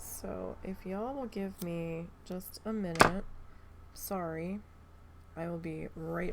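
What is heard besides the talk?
No everyday noises stand out.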